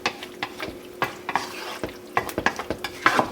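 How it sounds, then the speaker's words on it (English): A spoon stirs food simmering in a pot for a Southern side dish, scraping in repeated irregular strokes over a soft, steady sizzle, close and clear with no voices. "And just stir these guys around."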